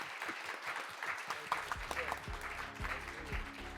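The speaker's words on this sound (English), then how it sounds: "Why don't you give another big round of applause to the director and the announcer?" An audience applauds the director James Cameron at a special session of an innovation forum, with moderately loud, sustained clapping that is overlaid by a voice speaking through the second half.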